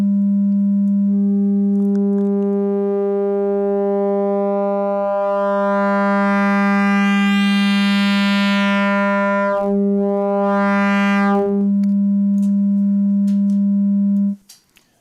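A synthesizer tone in Bitwig's FM-4 instrument holds a steady loud sine pitch while frequency modulation sweeps in brighter buzzing overtones that rise, fall and wobble, then cuts off abruptly near the end.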